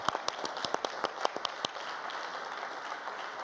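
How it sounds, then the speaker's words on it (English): A live audience gives a short round of applause, a burst of scattered claps lasting under two seconds before fading into a low murmur of room noise. "give him a round of applause, folks"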